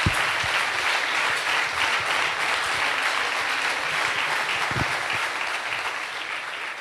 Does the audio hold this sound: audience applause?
yes